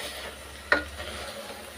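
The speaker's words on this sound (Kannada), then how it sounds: "ಇದನ್ನು ಕೂಡ ಫ್ರೈ ಮಾಡ್ಕೊತಾ ಇದ್ದೀನಿ" Grated coconut frying in a pan for avarekalu (field bean) sambar gives a soft, steady sizzle with a single sharp scrape of a utensil partway through; no voices.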